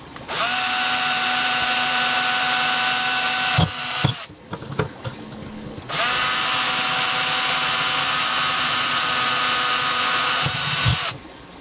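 A power drill whines at a high steady pitch in two long bursts, drilling small holes for an aquarium snail trap, with a brief pause of clicks and handling noise between them.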